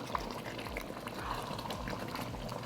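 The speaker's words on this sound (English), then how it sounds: "The way it's bubbling sounds like lava" A seafood boil with sausage and potatoes bubbles in a pot, giving a soft, steady low churn of popping bubbles close by, with no talking.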